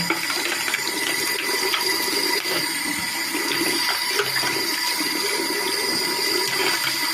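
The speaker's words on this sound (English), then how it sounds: "Okay, now just keep rinsing. Maybe scrub it with some RAM." Running water pours steadily over PC RAM sticks being rinsed, a continuous close rushing stream like a tap or flushing flow, with no talk.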